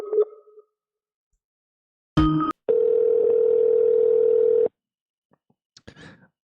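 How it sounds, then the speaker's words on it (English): Telephone call line ringing, with a short tone burst followed by a longer steady electronic ring tone on the line, clear and isolated, with brief faint clicks before and after. "And we're ringing again."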